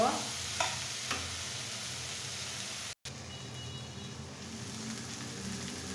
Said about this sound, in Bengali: এখন শাকের সাথে আমি এখন এটা 10 মিনিট ধরে এভাবে সুন্দর মতো রান্না করে নেব।